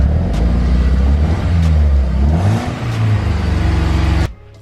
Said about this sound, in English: Misfiring, might be overheating.